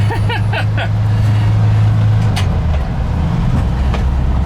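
A 1968 VW single cab bus engine running while the vehicle is driven, a loud close droning hum with the engine note dropping in pitch partway through, continuous and steady.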